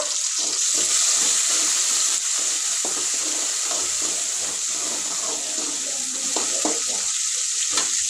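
Onion frying in a pan, a steady loud sizzle with bright crackle and intermittent scraping stirs throughout, no talking.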